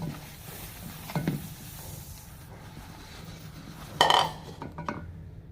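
Sesame seeds being mixed into a pan of hot syrup for til chikki, with quiet scraping and a few sharp metallic clinks of a spoon against the pan, close by and fairly soft.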